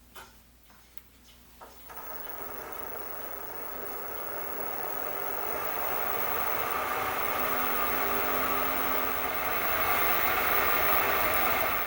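Homemade spindle spinning up to about 1000 RPM, a quiet tick and shuffle at first, then a steady mechanical whir and hum that grows gradually louder and holds, close and unbroken.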